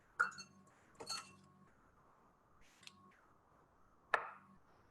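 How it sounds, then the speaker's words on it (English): A knife slices a block of butter in half on a cutting board in a home kitchen, making a few soft, separate knocks and clinks against the board, spaced out with quiet between them. "I'm going to cut the butter in half"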